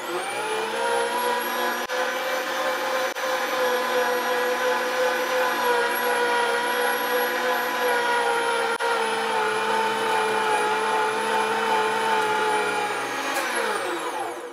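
An electric meat grinder works through chunks of beef for burger patties, running as a steady, loud motor whine with a constant pitch that sags slightly near the end.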